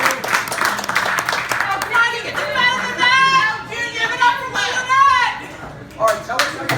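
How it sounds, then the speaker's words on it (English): An audience at an anniversary celebration event claps and cheers in a mixed, lively burst, with voices and chatter mingled into the applause, moderately close and steady for several seconds. "Give it up for Lou Linet."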